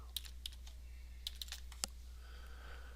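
Sparse, quick keystrokes on a computer keyboard while entering HTML heading tags, a few scattered clicks close up with no talk over a steady low hum.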